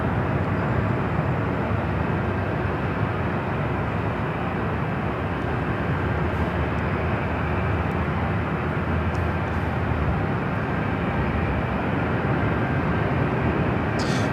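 Southwest Airlines jet taking off at LAX, a steady broad roar of engine and rushing noise that holds loud and even throughout, heard from some distance.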